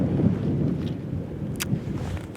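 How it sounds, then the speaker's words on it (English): Strong wind buffeting a microphone outdoors at Hadrian's Wall in snowy weather, a continuous low, gusty rumble with no other clear sounds. "the wind does make it a bit difficult to record"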